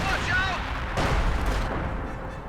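Howitzer artillery fire in a Company of Heroes 2 2v2 match, a dense rumbling barrage with a sharper blast near the one-second mark, continuous over the length under a caster's talk.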